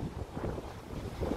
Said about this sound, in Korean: 지금 요거 보니까 바람 한번 불 때마다